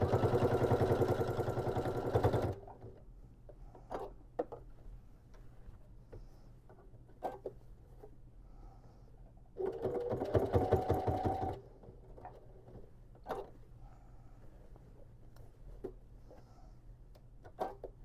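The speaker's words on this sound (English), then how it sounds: "And I can start sewing right there." A sewing machine stitches a beginner's market tote bag in two short, loud runs. Between the runs come quiet pauses with light clicks and handling noises.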